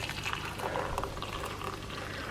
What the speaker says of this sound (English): So just need to pour some water now.